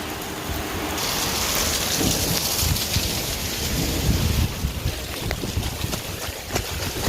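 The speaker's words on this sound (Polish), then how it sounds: "Grad zaczyna padać." Dense hail drums and rattles on surfaces in a thunderstorm, a loud continuous roar with scattered sharper impacts.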